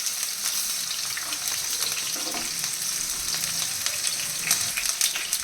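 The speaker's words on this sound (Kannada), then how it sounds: "ಕಂಪ್ಲೀಟಾಗಿ ನಾವು ಫ್ರೈ ಮಾಡೋದ್ರಿಂದ ಇದರಲ್ಲಿರೋ ಲೋಳೆ ಎಲ್ಲ ಹೋಗಿ ತುಂಬ ಕ್ರಿಸ್ಪಿಯಾಗಿ ಚೆನ್ನಾಗಿರುತ್ತೆ" Okra frying in oil makes a close, continuous bright sizzle with crackling pops and occasional stirring scrapes; no one speaks.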